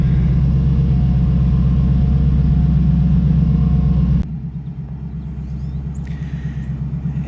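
A twin-turbo Camaro on its first street drive rolls down a driveway, its engine a deep, steady, loud rumble close by that drops abruptly to a lower, throbbing idle-like burble partway through.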